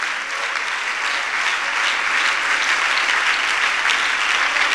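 Church congregation applauding for the Lord, a full, continuous wash of many hands clapping at once, loud and even from start to finish with no talk over it.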